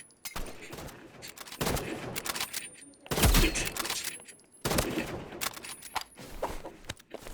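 Gunfire in the video game Rivals, a freeze-ray style weapon in duels, with several sharp, loud shots in separate bursts, each trailing a short crackle.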